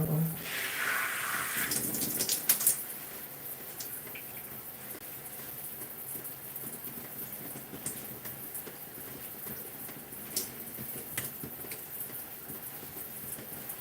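Water runs onto hair during a wash on a gray natural crown, a steady close hiss and splash with a stronger gush in the first few seconds, then a softer continuous trickle.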